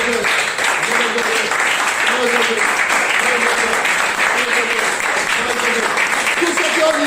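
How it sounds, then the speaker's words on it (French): A church congregation claps loudly and continuously through a joyful prayer service, while a voice speaks or chants over the applause. "Applaudissez très fort pour ça."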